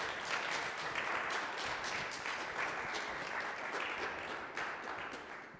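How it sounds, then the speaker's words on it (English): An audience claps for partners and sponsors at a Mars habitat startup challenge event: sustained, dense applause from a crowd that fades slightly toward the end. "give them a big applause to make it happen"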